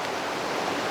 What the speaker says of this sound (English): I hope you can hear me over this water